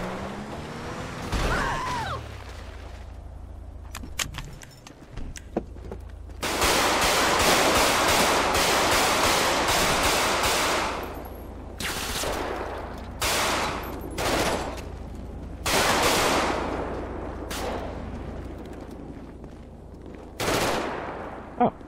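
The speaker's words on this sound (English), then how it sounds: "There are people shooting at me." Bursts of automatic and single gunfire from active shooters in the police roleplay game FivePD, loud and repeated in clusters with short gaps over a steady low game background hum.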